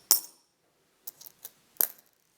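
Coins dropped onto a hard surface one at a time, a sharp metallic ring followed later by a few shorter clinks and one more ringing drop, comparing old and new money, no talk.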